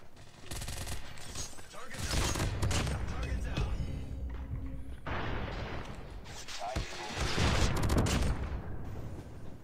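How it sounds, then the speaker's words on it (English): Gunfire in the mobile shooter COD Mobile, with dense, loud volleys of rapid shots and booming impacts layered over busy game noise, continuing almost without pause across the whole stretch. "why y'all shooting me?"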